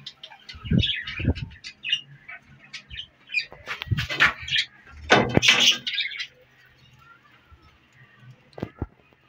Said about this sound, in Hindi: सारे तोते मेरे हाथ से ही खाते हैं